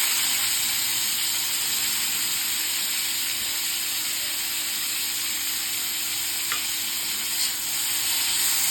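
Crushed bitter gourd fries in hot oil with mustard seeds, making a loud, steady, close sizzle and hiss that runs unbroken throughout, with a faint clink of stirring and no talking.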